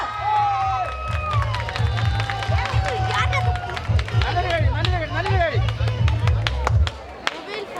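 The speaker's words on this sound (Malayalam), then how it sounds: "ഒന്ന് കൈയടി കൊടുക്കൂ." An audience at a gathering of grandmothers breaks into applause, a steady close wash of clapping that runs for several seconds with cheering voices, chatter and a loud voice over it, ending in a single sharp clap.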